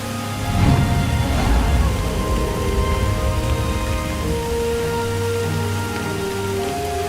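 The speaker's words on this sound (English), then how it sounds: "As he sat, the rain fell constantly." Heavy rain pours onto a surface in a steady, close, loud wash of patter, with a stronger burst early on before settling into constant downpour.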